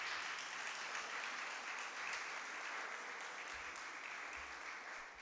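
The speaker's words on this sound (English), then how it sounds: "Give the students a round of applause for me" An audience at a university lecture on cross-border security and tourism applauds students in a steady, even clatter of many hands that holds for about five seconds before fading slightly.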